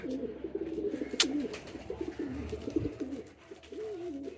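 Racing homer pigeons out in the open coo in low, rolling, throaty phrases one after another, close by, with faint rustles and light knocks around them.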